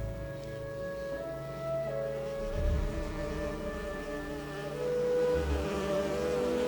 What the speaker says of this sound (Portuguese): A abelha mesmo.